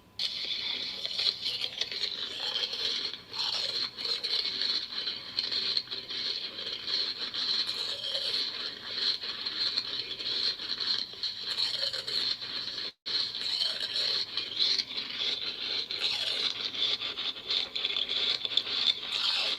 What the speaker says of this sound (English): Chewing ice.